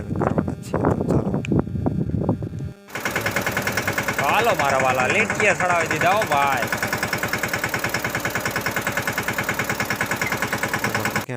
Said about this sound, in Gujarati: તો આપણે ટ્રેક્ટર અત્યારે ચાલે છે